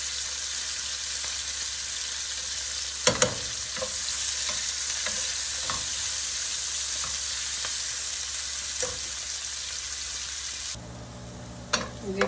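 Onions frying with a pinch of salt in a pan, a steady loud sizzle broken by scattered clinks and stirring scrapes, dropping to a quieter hiss near the end.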